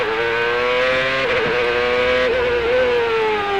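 A CART race car at full speed on the bumpy asphalt-and-concrete Detroit street circuit beside the Detroit River, its high engine whine loud and steady, dipping briefly as the driver brakes hard and drops to second gear.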